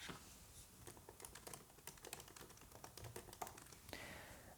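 Typing on a 16-inch MacBook Pro keyboard, a quiet, steady patter of soft key taps heard close up with no talk.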